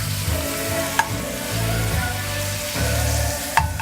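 Ham sizzling in butter in a frying pan, a steady close hiss of frying with a couple of light clicks of stirring and no talk.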